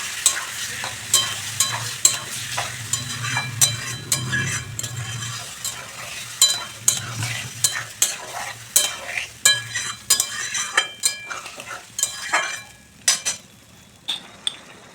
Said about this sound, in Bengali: আবারও ভালো করে একটু নাড়াচাড়া করে নেব।